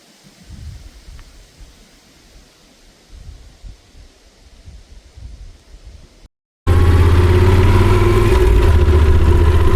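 Yamaha Super Tenere 1200 ES motorcycle engine while riding through trees, a low rumble with wind for about six seconds, then a brief dropout before a much louder, closer engine drone fills the rest.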